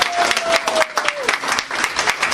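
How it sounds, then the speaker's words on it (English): Graduates of a college class applaud at their commencement, a dense and loud burst of clapping and crowd noise throughout, with a voice briefly audible underneath. "So give yourself a round of applause for mission accomplished."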